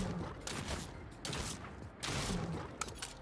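A modded shotgun fires at a Deathclaw in Fallout 4, giving four quiet, evenly spaced blasts with short mechanical clatter between them.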